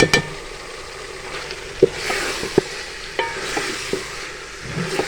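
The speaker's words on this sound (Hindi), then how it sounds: "अब हम इसमें गाजरें शामिल कर देंगे।" Carrots and peas for a mixed vegetable dish are stirred and fried in a pan, giving a steady sizzle with several sharp clinks and scrapes of the spoon against the pan, close and fairly loud.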